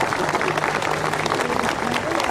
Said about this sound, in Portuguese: vamos dar uma salva de palmas para a nossa imagem de Nossa Senhora Aparecida